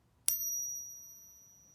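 A silver coin from Japan, 72% silver, gives a single bright ping when struck, then a pure high ring that fades slowly, close and alone.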